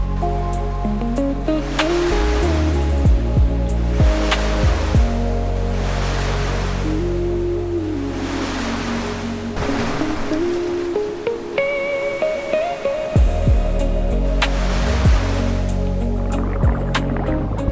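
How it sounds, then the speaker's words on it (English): Ocean waves break over granite rocks along a Phuket shoreline and wash into foam, a loud, continuous surging roar that swells and recedes, with tonal layers running alongside. "Waves folded over the granite, disappeared into white foam, and returned again"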